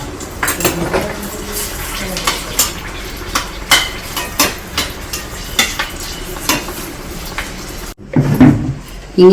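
Two chillies frying in hot oil in a pan while pickle is made from tender baby mangoes, with a steady sizzle under repeated clinks of a utensil against the pan, then a short pause and a louder rustle at the end.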